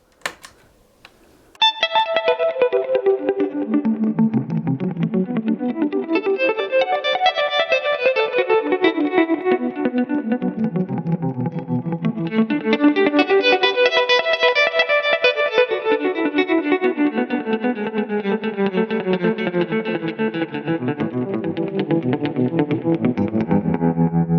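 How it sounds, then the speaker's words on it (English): An electric guitar plays sweeping, descending and rising phrases with a rapid pulsing tremolo chopping the tone, steady and prominent, with no voices. "And if we wanted to make this sound even more, maybe we could add like a tremolo."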